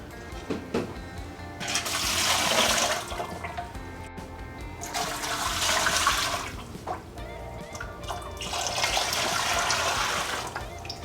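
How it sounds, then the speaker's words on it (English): Tap water pours into a pressure canner in three separate surges, each a loud splashing rush lasting a couple of seconds with brief quiet gaps between, heard alone without talk. "we're going to put 3 quarts of water in here according to your manufacturer's instructions"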